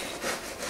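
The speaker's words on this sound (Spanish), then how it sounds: "vamos a seguir cortando el pan poquito a poco" A knife saws back and forth through bread for a ham and cheese sandwich, giving soft, rasping strokes that swell and fade in a steady rhythm, close and fairly quiet, with no talking.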